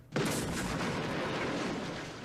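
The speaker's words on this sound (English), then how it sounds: "The head bad guy gets taken out at close range with a rocket launcher." A rocket launcher blast from an action shoot 'em up film, one sudden heavy boom followed by a long, loud rumbling roar that fades slowly.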